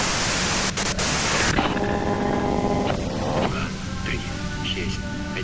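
Loud, hissing white-noise static from the game Disco Elysium fills the whole stretch, at first broadband and harsh, then thinning into a steadier hum with faint tonal lines underneath.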